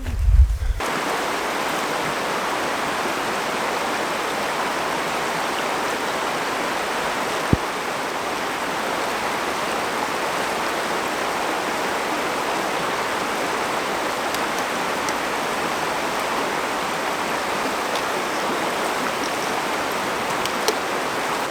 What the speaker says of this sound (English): we made it across the one big water crossing on trail